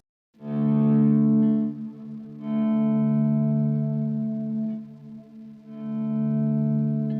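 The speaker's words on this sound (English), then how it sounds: "A little bit of overdrive. And then I can obviously do some swells with that" Electric guitar with light overdrive from a Headrush MX5 plays sustained chords that swell in slowly, three swells separated by short gaps, ringing with a touch of effects.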